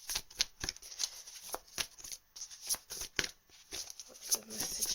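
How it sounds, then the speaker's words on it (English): Tarot cards shuffled by hand during a reading, a run of quick papery riffles and soft flicks coming close and fairly quiet, with brief pauses between bursts. "These cards don't want to come out."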